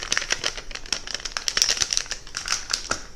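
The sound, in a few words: aluminium foil folded and rubbed while burnishing mirror edges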